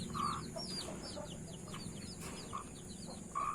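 Several backyard chickens cluck and chirp near and far, with high peeping of sixteen chicks scattered throughout and a steady farmyard hum beneath.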